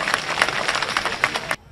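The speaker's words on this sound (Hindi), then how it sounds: "जरा इनके लिए भी ताली बजाओ।" Crowd at a political rally breaking into applause, a dense burst of many hands clapping together for under two seconds before cutting off abruptly.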